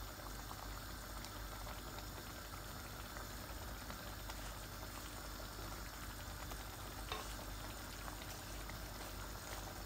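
Chicken curry bubbles and sizzles softly after tomato puree is added, a steady, even simmering hiss that stays quiet and close throughout with no speech.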